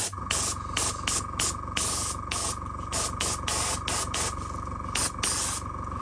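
Spray paint hisses from a can in short repeated bursts as a coat goes onto custom Bape sneakers, close by and steady in rhythm over a constant electrical whine, with no talk.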